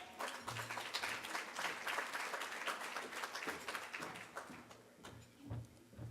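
A conference audience at a child welfare event bursts into sustained applause, dense and steady clapping from many hands filling the room for the whole stretch, easing slightly toward the end.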